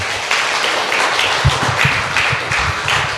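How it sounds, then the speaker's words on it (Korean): Church congregation applauding the worship team during a service, loud and dense clapping from many hands that keeps up evenly for a few seconds, no voices over it. "우리 찬양팀 격려하기 위해서 박수 한번 하면 좋겠습니다."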